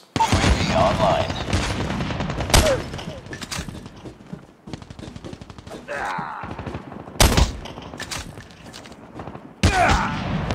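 Rapid bursts of gunfire in the survival game Rust during a close-range 1v1 capture-the-flag match, sharp loud shots clustered in several volleys across the stretch, with a player's voice talking between them.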